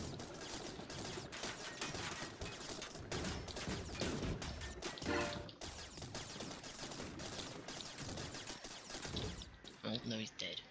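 Dense, continuous gunfire and explosive bursts from a TerraTech battle between vehicles, a steady clatter of shots throughout with voices talking over the combat.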